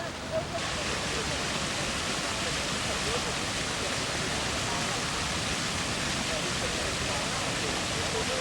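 Steady rushing wash of flowing water from a fountain at a Los Angeles music center, continuous and fairly close, filling the whole stretch with broadband splashing.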